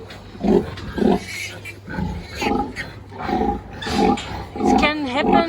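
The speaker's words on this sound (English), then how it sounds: "Pigs screaming, that it means there's something wrong." Piglets on a pig farm scream in repeated shrill bursts, several close together and fairly loud, with a steady low mechanical hum running underneath throughout.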